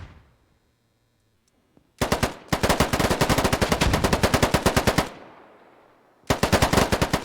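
Automatic gunfire rattles in a low-poly tactical shooter game: a short opening burst, then a long sustained stream of rapid shots, a pause, and another burst, all loud and close after near silence at the start.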